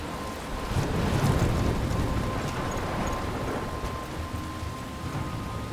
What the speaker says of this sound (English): Okay, so it seems like we're in the middle of a storm.